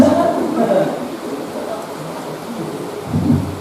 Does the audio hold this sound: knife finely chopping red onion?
no